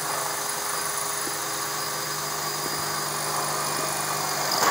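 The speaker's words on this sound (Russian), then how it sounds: "Сверлим." A steady high-pitched mechanical whine of a drill boring a rivet hole in bent metal for a quail feeder runs throughout at constant loudness, with a few faint clicks underneath.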